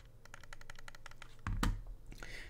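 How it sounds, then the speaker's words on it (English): Rapid light clicks from the buttons of a Razer Viper Mini gaming mouse, a quick close-up series of crisp taps followed by a louder thump and a few softer clicks. "So the right and left click are pretty mushy"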